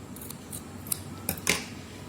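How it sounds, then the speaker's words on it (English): Scissors snip a paper petal for a handmade Father's Day card, several short crisp cuts at close range over a quiet room. "So now you'll have to just cut here one petal"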